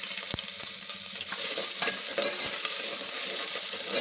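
Lengthwise-sliced onions dropped into hot oil for a ladies finger sambar, a dense, loud, continuous sizzle that holds steady close up, marked by a few soft knocks and no talking.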